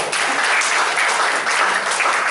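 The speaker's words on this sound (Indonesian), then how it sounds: "Tepuk tangan untuk Tuhan" A crowd claps steadily and loudly throughout, a dense wash of applause with no pauses and no talking.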